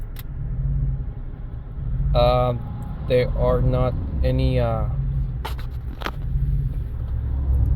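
A 2011 Chevrolet Silverado with a 5.3 engine idles in drive with an uneven, surging low rumble, heard close and continuous while someone speaks over it.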